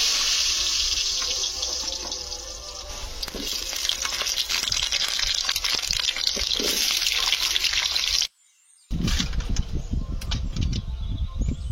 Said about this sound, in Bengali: কড়াটা পরিষ্কার করে আমি আলুটা ভেজে নেব।